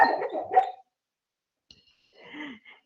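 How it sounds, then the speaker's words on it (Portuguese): A pet dog named Meg barks and whines in her sleep while dreaming, two short muffled bursts separated by a pause, close and fairly loud with no talk over them. "A Meg tá dormindo, daí ela late, assim, porque ela tá, acho que, sonhando"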